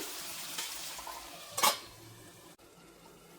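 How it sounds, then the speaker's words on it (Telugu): Chicken pieces frying in a pan for a spicy chicken fry, with a soft continuous sizzle and one brief louder stirring scrape near the middle, no voices. "ఒక 10 నిమిషాలు మధ్య మధ్యలో కలుపుతూ ఇలా ఫ్రై చేసుకోండి"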